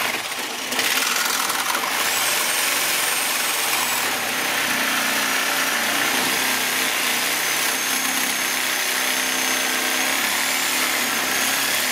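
A power saw blade cutting during a Cummins engine swap in a garage, a loud sustained high whine that starts abruptly and grinds on steadily with slight shifts in pitch.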